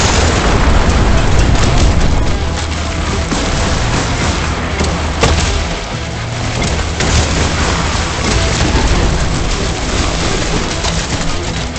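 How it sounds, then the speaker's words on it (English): Rocket launcher fire in the shooter game Turbo Overkill, a dense, loud barrage of booming blasts and explosions rolling on continuously without talk. "Rocket launcher does what it says. Shoots rockets, devastating your enemies."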